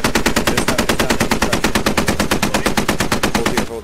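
Sustained rapid automatic gunfire in the video game Squad: a loud, close, evenly spaced burst of about thirty shots lasting nearly four seconds, heard alone.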